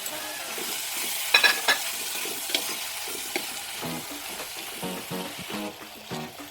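Chopped tomato dropped into a hot pan of onion and green chili, sizzling and frying loudly with clatters of a spoon stirring, steady hiss under the scraping.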